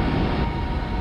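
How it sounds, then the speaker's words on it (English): Winds on Saturn's moon Titan, recorded by the Huygens probe during its descent through the thick atmosphere, make a dense, steady roaring hiss lasting about a second with no pauses. "The sound of the winds from a tiny moon nearly 1 billion miles away."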